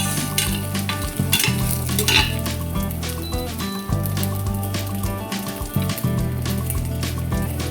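Garlic, onion and tomato hit hot oil in a pan for pansit sa bukid, a loud continuous sizzle broken by repeated clatters and scrapes of stirring.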